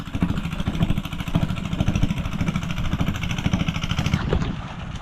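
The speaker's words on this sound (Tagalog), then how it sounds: "Napandar na natin yung makina." A small irrigation pump engine runs beside a rice field, chugging steadily and loudly up close for the whole stretch with a rapid, even pulse and no talking.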